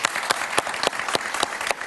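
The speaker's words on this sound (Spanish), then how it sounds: "Un aplauso para Rafael, por favor." A studio audience in Miami greets Rafael Nieto with applause: a short burst of loud, distinct claps at an uneven rhythm, with no talk.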